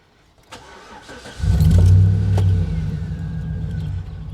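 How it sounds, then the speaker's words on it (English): A 2009 Chevrolet Tahoe engine cranks and catches about halfway in, then settles into a steady, fairly loud idle close by with no talking. "All right, I may have to start the car."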